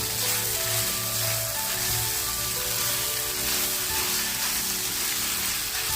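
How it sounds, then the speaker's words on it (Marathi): Grated fresh turmeric fries in ghee in a pan over a low flame, giving a dense, steady sizzle throughout as it is kept moving. "हळद आपल्याला सारखी हलवत राहायची आहे"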